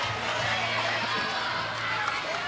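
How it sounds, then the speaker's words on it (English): Ballpark crowd of about 900 people at a Little League World Series baseball game, Pennsylvania against Louisiana, a steady distant murmur and cheering that fills the background beneath a commentator's talk. "Crowd is into it. Got about 900 people in and around this ballpark tonight."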